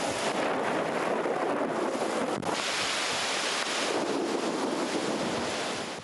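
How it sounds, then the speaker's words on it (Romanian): Strong storm wind at nearly 60 km/h in Dâmbovița, Romania, roars continuously, buffeting the microphone with a dense, rushing noise like surf. "vântul a suflat cu aproape 60 de km pe oră"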